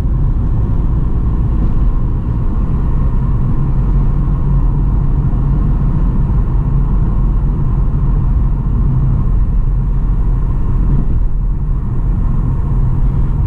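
Engines of a Lada Vesta Turbo and a stock Lada Kalina Sport drone steadily in a loud, continuous low rumble during a race, with no talk over it.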